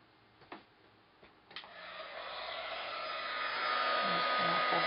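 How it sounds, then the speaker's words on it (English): A heat gun blows onto Cricut-cut paper butterfly scrapbook embellishments, starting after a few soft clicks and rising into a steady, loud rushing whoosh that holds alone to the end. "I'm just going to apply a little bit of heat to them with my heat gun."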